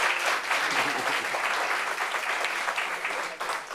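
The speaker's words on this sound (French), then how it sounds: "Est-ce qu'on peut applaudir le teint de maman?" An audience at a discussion gathering applauds, a thick continuous roar of clapping hands held at an even level for several seconds.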